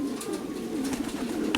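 Racing pigeons coo in a close, continuous, soft throaty murmur, with the low rolling calls overlapping without pause.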